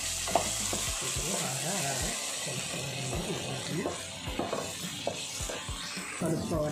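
Spicy Andhra-style country chicken frying in a pan and stirred with repeated scraping strokes over a steady sizzle, while someone talks throughout.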